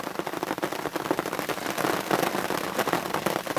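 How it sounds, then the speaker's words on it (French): Steady outdoor rainfall, a dense pattering hiss with scattered sharper drop impacts, loud and continuous throughout with no voices. "Il pleut, ça fait trop de bien, quoi."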